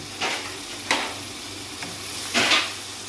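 Kashmiri chilli, cumin, dried coriander powder and whole garam masala roasting in a pan, a low steady sizzle broken by a few short scraping stirs and brief hissy bursts, close by and alone without speech.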